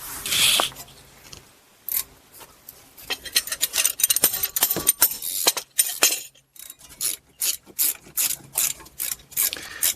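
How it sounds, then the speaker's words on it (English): A hand ratchet loosens 14 mm brake caliper guide pin bolts on a Chevy Equinox, giving repeated bursts of close, crisp clicking with short pauses between strokes. "Next, remove the caliper guide pin bolts,"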